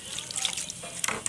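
Water swishing and splashing as flattened rice (chira) is washed by hand in a bowl, a short close burst of sloshing with soft drips.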